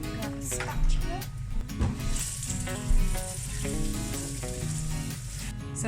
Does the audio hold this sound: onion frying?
yes